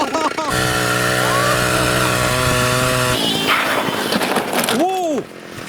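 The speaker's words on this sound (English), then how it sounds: "I'm going to turn my snow bike into a chainsaw scooter cycle." A chainsaw motor fitted to a homemade snow bike scooter runs loud and close, holding a steady buzzing drone, then shifting pitch and revving up and down before cutting off near the end.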